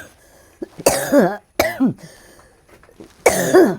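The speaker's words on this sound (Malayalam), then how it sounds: "നല്ല ചുമയാണ്" Three harsh, close coughs in separate bursts, with short quiet gaps between them.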